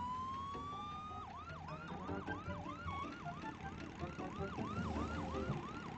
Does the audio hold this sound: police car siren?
yes